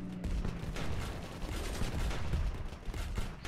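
A video game bombardment rumbles on in a fairly faint, continuous barrage of low booms and crackling gunfire, with no voice over it.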